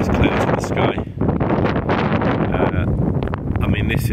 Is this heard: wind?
yes